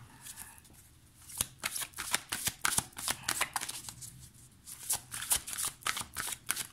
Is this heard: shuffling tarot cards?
yes